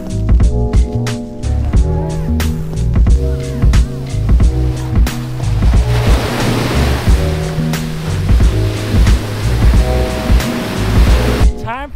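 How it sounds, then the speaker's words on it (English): Ocean waves rolling on clear blue water at a Cancun beach, a steady loud surf wash filling the scene alongside music. "Show them the ocean."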